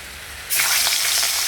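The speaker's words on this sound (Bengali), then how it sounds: "মাছটা ভাজা বসাবো, এখন তেল গরম হয়ে গেছে" Rohu fish pieces drop into hot oil, bursting into a loud, close, bright sizzle that starts abruptly and keeps crackling steadily, with no talk.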